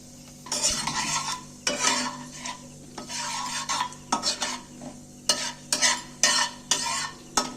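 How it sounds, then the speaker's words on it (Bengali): Whole spices—a piece of cinnamon, two cardamom pods, cloves and cumin seeds—fry in hot oil, with repeated scraping stirs and soft sizzling in close, rhythmic bursts. "তেলের মধ্যে আমি ফুরনগুলোকে দিনু একটু নাড়াচাড়া করে ভেজে নিচ্ছি"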